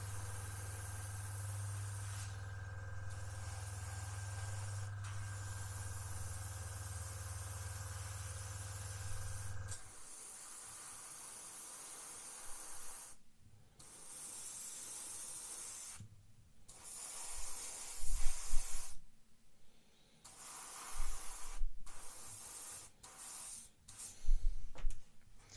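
A Gaalheri Mobius airbrush lays down a light dust coat of paint, first as a steady compressor hum with a faint hiss, then as soft hissy spray bursts broken by short pauses and occasional handling clicks.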